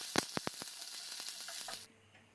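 Chopped onion dropped into hot mustard oil in a wok sizzles loudly, with a few sharp crackling pops over a steady hiss that stops abruptly.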